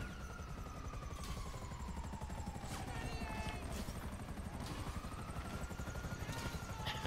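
Helicopter rotors chop in a steady, fast thumping drone in Grand Theft Auto Online, constant and moderately close, with people talking over the engine noise.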